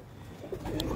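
Low pigeon coos come from a loft of breeder and high-flyer birds, a short soft burst close by over a faint noisy background, with no speech.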